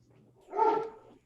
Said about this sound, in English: that was my dog acting up